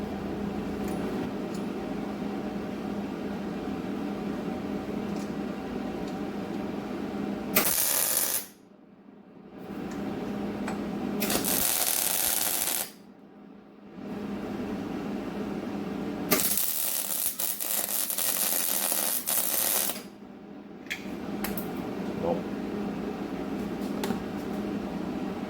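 Arc welding an Allen key onto a washer during repair work on a 1986 Honda ATC 250ES three-wheeler, heard as loud, steady crackling buzz in three long bursts separated by short silent pauses.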